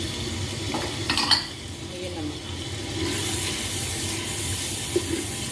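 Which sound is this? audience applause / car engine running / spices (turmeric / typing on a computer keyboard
spices (turmeric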